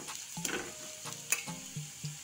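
Turmeric, Kashmiri red chilli and coriander powders stirred together in a frying pan, with intermittent spoon scrapes and taps over a soft sizzle, close and fairly quiet.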